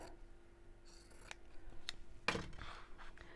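Scissors cutting fabric squares in a sewing session, a few quiet close snips spread across the moment, with one sharper cut standing out, alone with no talk.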